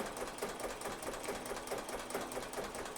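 Embroidery machine stitching yarn along a placement stitch path, a steady rapid mechanical chatter of the needle running at a constant pace, fairly quiet and close with no voices.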